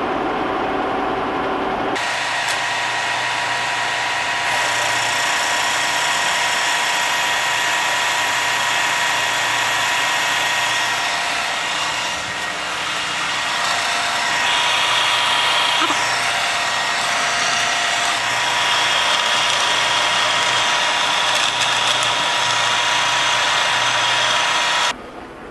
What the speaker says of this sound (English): I've just taken it off the milling machine, and this slot that I cut here